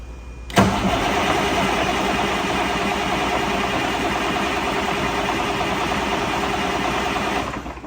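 A Caterpillar C15 diesel swapped into a 1988 Peterbilt 379 truck fires up on its first start, cranking briefly into a sudden loud catch, then settling into a steady, heavy, close idle that runs throughout with no talk.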